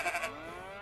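A goat bleats in the farming video game Farmer's Life, a short wavering cry with two or three quick pulses up front, then a tapering tone, heard alone and fairly close.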